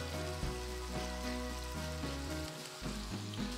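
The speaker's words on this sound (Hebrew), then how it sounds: "הקארי, אי אפשר לשים את החלב קוקוס ואז את הקארי, כי הוא צריך לעבור טיגון" Curry spices fry in a pan with coconut milk for an Asian chicken soup, a steady sizzle that runs throughout under loud background music.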